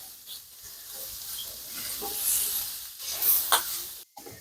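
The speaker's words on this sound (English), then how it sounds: "You'll just keep cooking that until everything is ready." Sausage and peppers cooking in a pan give a soft, steady sizzle with light stirring and scraping, close and fairly quiet, with no talking.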